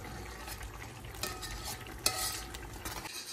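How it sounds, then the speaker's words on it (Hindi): Masala spices roasting in a pan while being stirred, with a low steady sizzle and scattered spoon scrapes and taps, fairly quiet with no talking. "मसाले को जो है ना अच्छे से भून लेना"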